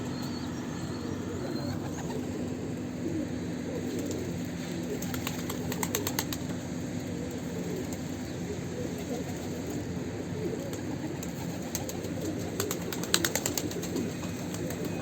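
Pigeons coo steadily at a loft where young birds are growing, a low continuous murmur with faint chirps and brief wing flaps; no speech.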